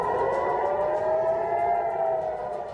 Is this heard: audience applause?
no